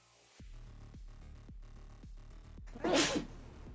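A single loud, close sneeze bursts out near the end, following a steady run of repeated low rhythmic thumps from background music during a Magic: The Gathering game session.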